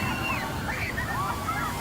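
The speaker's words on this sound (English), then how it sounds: "at these waves crashing," Ocean waves crash and wash continuously at a beach, a steady dense roar of surf with faint overlapping tones on top, no distinct breaks.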